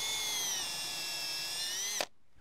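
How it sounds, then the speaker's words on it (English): A close, loud drill motor whines continuously while drilling into a log, pitch sagging slightly under load, then cuts off sharply near the end. "We want to drill every 4 to 6 inches."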